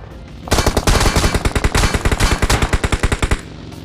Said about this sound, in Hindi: पीछे से बंदे भी फायर कर रहे थे